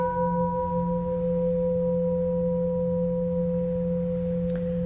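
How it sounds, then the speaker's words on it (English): Sustained gong tones for a meditation session hold steady and loud throughout, with a deep low hum and bright upper partials ringing evenly with no talking. "Simply allow the gong tones to move through you."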